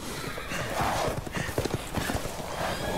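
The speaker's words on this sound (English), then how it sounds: "Y'all ride horses now?" Horse hooves clip-clopping in Resident Evil Village, a quick irregular run of hoof strikes at close range with a brief whinny, loud against a muffled game background.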